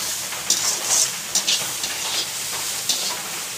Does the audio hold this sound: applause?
no